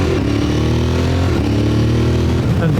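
A motorcycle with a 660cc engine being ridden, its engine droning loudly and steadily up close with a brief shift in pitch partway through, wind and road noise mixed in.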